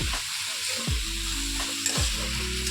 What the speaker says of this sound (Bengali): এটার মধ্যে আমি রাঁধুনি যে বেটে রেখেছিলাম সেটা দিয়ে দিচ্ছি। দিয়ে ভালো করে মিলিয়ে নিচ্ছি।